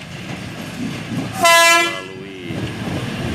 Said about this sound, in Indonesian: ini dia kereta api Bhatara Krishna dengan perlahan-lahan